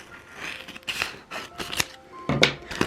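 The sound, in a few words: cutting a shoe box piece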